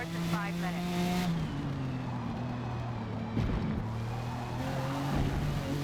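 Jaguar XJR-15 race car with sport tires taking high-speed corners in a racing video game, its engine droning in steady shifting tones with brief tire scrubs, heard under someone talking.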